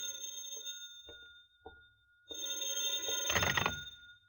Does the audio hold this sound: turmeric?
no